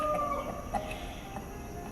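Chickens on a village farm in rural Sarawak clucking and crowing, loud and close, with overlapping fowl calls over a constant outdoor background.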